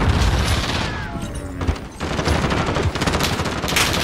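Rapid automatic gunfire in a video game, shot from the hip, loud and sustained bursts with booming impacts filling the whole stretch.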